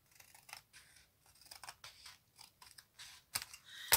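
Scissors snip through the end of a paper pocket for a handmade junk-journal folio: quiet, irregular cuts, with two sharper, louder snips at the close.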